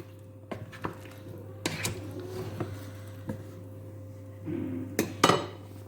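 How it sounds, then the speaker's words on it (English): A spoon scrapes and knocks against a cooking pot while Cameroonian plantain porridge is stirred: faint, scattered clinks and taps over a low steady hum, with one louder rattling clatter near the end. "I stir it for a while"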